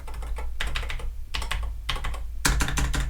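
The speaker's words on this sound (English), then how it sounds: "clicky keyboard" Bursts of rapid clicky keystrokes on a Texas Instruments TI-99/4A home computer keyboard, close and crisp, arriving in four quick clusters separated by brief pauses over a low background hum.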